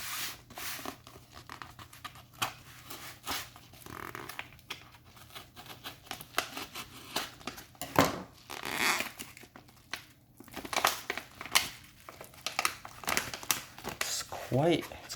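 Scissors or a blade cut through packing tape on the box of an ELEGOO UNO starter kit, giving close crinkling, tearing and snipping noises in uneven bursts, with some speech mixed in.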